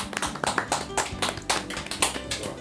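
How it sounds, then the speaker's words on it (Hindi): Studio audience on a Bhojpuri TV game show clapping, a brief burst of dense applause, close and lively, lasting a couple of seconds. "जोरदार तालियां"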